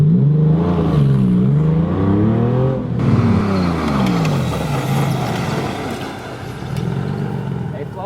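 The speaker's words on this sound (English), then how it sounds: "So let's go ahead and up it to 40 miles per hour and see what happens then." A car accelerates up to 40 miles per hour, its engine note climbing steadily in pitch, then giving way to loud, close road and wind roar.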